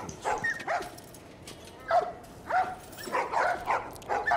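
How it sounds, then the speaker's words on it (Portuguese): A dog in The Last of Us barks in repeated short, mid-distance woofs and yips, coming in irregular bursts with brief pauses between them. "O cachorro."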